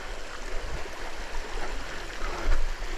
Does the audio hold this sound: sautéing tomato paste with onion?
no